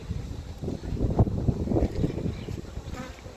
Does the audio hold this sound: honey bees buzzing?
yes